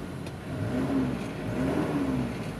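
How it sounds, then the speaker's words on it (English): A 1993 Nissan Datsun turbo diesel 4WD engine revs up and holds a rough, throaty rise close by, running strongly with no voices over it. "This engine sounds great."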